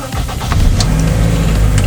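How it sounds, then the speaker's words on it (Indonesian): An automatic car's engine starts up loud and close inside the cabin, the starter turning over briefly before the motor catches and settles into a steady idle rumble. "nyalakan mesin dulu supaya AC-nya segera bekerja"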